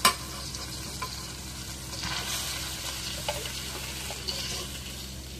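Goat meat with turmeric powder is stirred in a hot frying pan, giving a continuous low sizzle and a soft scraping churn, with an opening clunk and occasional knocks of the utensil, nearby and without speech.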